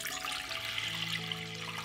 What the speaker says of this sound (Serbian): zatim ću u šerpu sipati 2 litre čiste vode